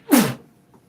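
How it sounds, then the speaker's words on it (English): A single sharp, breathy sneeze, close and loud, fading quickly into silence. "don't you sneeze everywhere"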